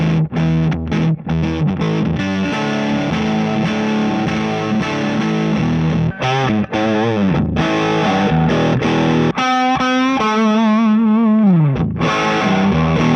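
A distorted, saturated electric guitar through a Dumble-style amp plays continuous lead lines with bends and vibrato over sustained chords, loud and close throughout.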